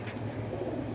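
Several pigeons coo steadily at a pigeon sale, a continuous low murmuring chorus that fills the whole second at moderate loudness with no speech.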